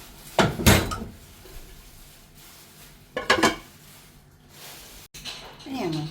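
A metal lid clanks onto a cooking pot of simmering egg curry with coriander, giving two sharp, close rattles a few seconds apart, with quieter kitchen clatter and a voice in between.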